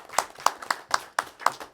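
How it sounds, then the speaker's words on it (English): Sparse clapping at a city council meeting for long-serving members, with about seven separate sharp hand claps at an uneven rhythm, close and moderately loud. "I'd like to offer a round of applause for these gentlemen."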